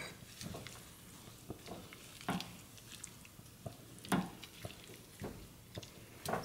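A spoon stirs chana masala, a chickpea curry, in a pan on the stove: soft, scattered scrapes and clicks over a faint sizzle, quiet and close.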